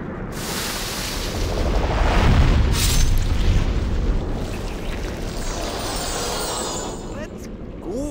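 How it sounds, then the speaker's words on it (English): Explosions go off in the video game Demon's Souls, a heavy boom building to a peak and then rumbling off, layered with game effects and a bright sweeping tone near the end. "They're like explosion devices."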